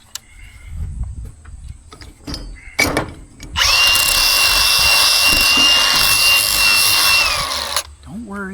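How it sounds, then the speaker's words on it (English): Flap wheel grinding metal during a field repair on a Hesston haybine, a loud harsh steady whir for several seconds, preceded by handling clunks and brief talk, then spinning down. "Don't worry, it's a flapper wheel."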